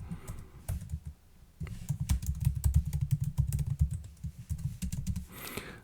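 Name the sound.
typing on a computer keyboard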